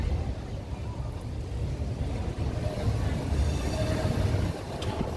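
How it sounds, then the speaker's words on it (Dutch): Tram running on an overhead track above a city street near a station, a steady low rumble and rolling noise, fairly faint and distant with no clear speech. "En wat je hoort is de tram."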